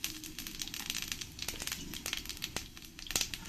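Cumin seeds sizzling in hot oil in a wok, a faint, steady crackle with scattered sharp pops and spits throughout.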